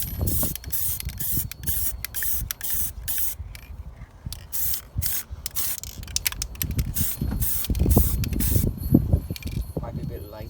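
An O gauge clockwork locomotive is spray painted outdoors on a windy day, with repeated bursts of aerosol hiss separated by short pauses, plus a few light knocks and rustles close by.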